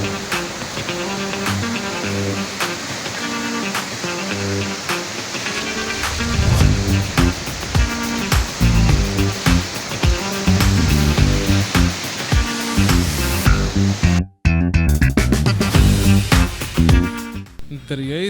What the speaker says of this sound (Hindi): दरियाई स्वात के गदला पानी से ही आपको अंदाज़ा हो रहा होगा कि यहाँ पर जमकर बारिश हुई है।